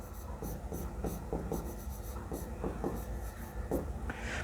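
A pen writing the word 'maximize' on paper, heard as close, quick scratchy strokes in an irregular rhythm over faint room background.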